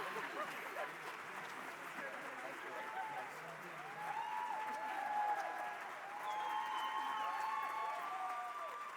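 Sustained audience applause fills a high school graduation ceremony after a song performance, steady clapping from a large crowd with a few voices and cheers rising partway through.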